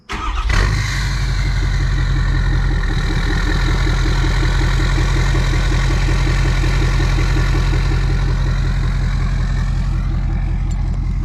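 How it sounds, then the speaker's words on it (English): A pickup truck engine cranks and catches first thing in the morning, then settles into a loud, steady, rumbling idle close by for the rest of the clip. "I'm gonna start the truck so you guys can hear it, what it sounds like first thing in the morning."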